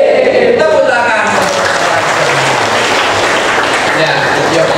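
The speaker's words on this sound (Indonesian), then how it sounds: "Tepuk tangan." A Javanese Christian church congregation claps together during a Sunday service, a dense and loud wash of clapping that carries on steadily, with a voice briefly heard at the start.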